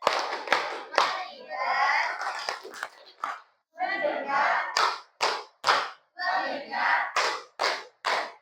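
A school class claps a rhythmic pattern together in a classroom, sharp group claps in short bursts separated by pauses, with the group chanting loudly between and over the claps.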